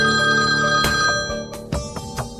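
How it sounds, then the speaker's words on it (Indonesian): A telephone ringtone plays loud and close, a bright electronic melody with repeated notes and sharp accents, with no voices over it. "Angkat telepon."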